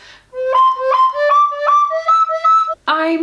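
An old Aulos recorder plays a clear stepwise run of about six pure, breathy notes, close and solo, ending on a fuller, lower tone.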